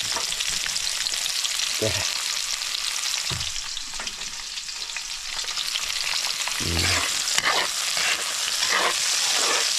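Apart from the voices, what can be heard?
crab frying in hot oil in a small pan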